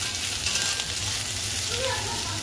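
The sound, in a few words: frying soybean chunks until reddish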